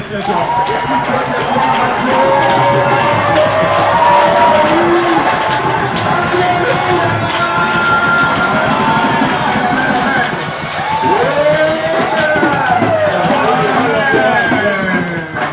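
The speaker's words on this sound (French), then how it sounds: "Alors, tu cries très fort. Et tu acclames très fort." A church congregation shouts and cheers loudly and continuously, a dense wall of many overlapping voices and calls filling the room at close range for the whole stretch.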